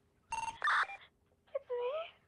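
Electronic phone tones and a short synthetic dialing melody from GTA V sound in two bursts separated by a brief pause, clear and close, with a voice speaking over them.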